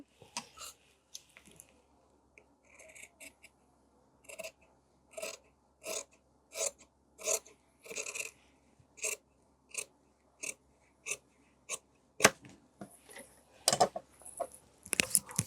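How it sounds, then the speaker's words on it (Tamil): Scissors cut blouse sleeve fabric during tailoring, producing a steady series of crisp snips, close and fairly regular, each separated by a short pause, with no speech. "இப்போ கையை அப்படியே கட் பண்ணிடலாம்"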